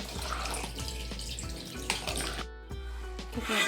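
Water running from a tap into a vessel while mushroom pulao is being cooked, a steady close splashing stream with a few clinks of utensils and a brief pause near the end.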